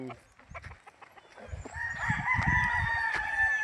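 Gamefowl bull stag roosters crow repeatedly on a farm in Tagaytay City, with sharp, ringing calls stacking up and overlapping near the microphone, accompanied by scattered clucks and low background voices.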